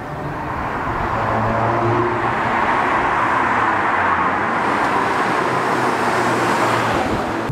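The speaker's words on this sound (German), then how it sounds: "Die verbaute Sportauspuffanlage klingt, wie man es hören kann, dezent." A 2013 Audi S3 quattro sedan with a sport exhaust system while driving, giving a steady, subdued engine and road drone throughout with no talking.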